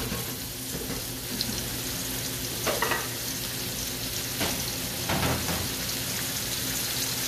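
Two flour-dredged veal escalopes frying in hot oil in a pan, a steady close sizzle with occasional louder bursts and scraping stirs.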